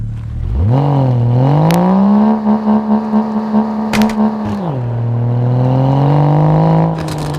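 Car engine in a driving video game, a deep, raspy idle that revs up, holds with a pulsing throttle blip, then drops back, loud and near with no talk.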